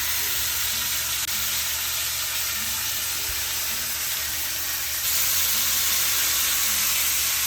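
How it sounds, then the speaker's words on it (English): Butter sizzling in a searing hot pan for a pot roast, a dense, loud, continuous hiss and crackle that swells slightly partway through, with no voices. "once your pan is searing hot, that's when you're going to add your butter"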